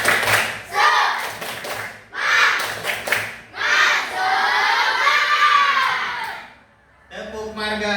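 A primary-school class doing a rhythmic spirit clap, bursts of clapping in a set pattern mixed with children's shouted chants, loud and close in a classroom.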